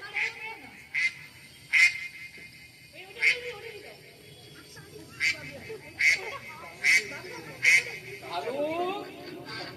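A duck quacking in a short comic play, several clear nasal calls in a loose series under and between voices, close and moderately loud.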